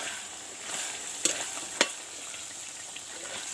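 Pork intestine curry with green chili and ginger frying in a pan, a steady close sizzle broken by two sharp clacks of a stirring utensil against the metal, with no talking.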